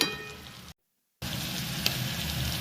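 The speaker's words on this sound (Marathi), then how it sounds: "वाटाणा छान फ्राय झालाय" Green peas frying in hot oil for homemade poha, a steady broadband sizzle that drops out briefly mid-clip and then returns at similar loudness.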